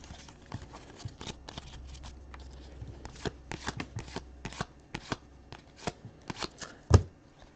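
A pack of 2013 Panini Prestige football trading cards is torn open and the cards are handled, giving irregular crisp snaps, flicks and shuffling rustles close to the listener, ending with one sharper knock.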